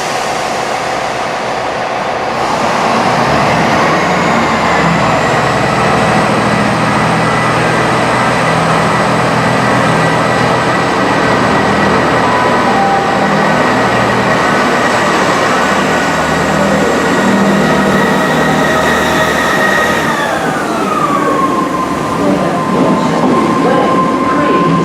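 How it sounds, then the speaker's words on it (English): A Class 158 diesel passenger train revs up and pulls away, a loud droning hum rising in pitch then dropping, with rumbling wheels over a long stretch. "Now leaving with the 1833 ARRIVA Trains Wales Service to Birmingham International 158828"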